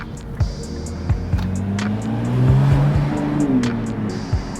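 A Nissan GT-R R35 engine growls and revs nearby, pitch rising and falling with sharp bursts between throttle blips.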